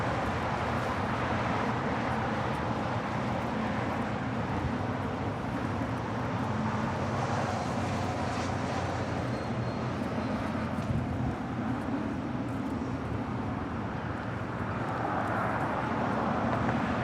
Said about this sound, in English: This is Swiss Flight 40 coming in from Zurich in this 777-300ER.